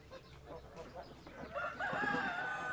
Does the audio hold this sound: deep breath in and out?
no